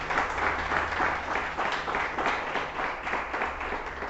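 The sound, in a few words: congregation applauding at church service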